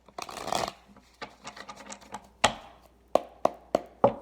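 Cards riffled and shuffled, a long burst followed by a series of sharp separate taps and flicks, close and clear with no talking.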